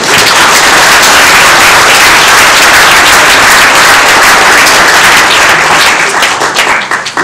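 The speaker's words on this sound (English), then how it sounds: "if we could give them a round of applause" Loud, sustained applause from a large audience, dense clapping filling the room steadily before tapering off slightly at the very end.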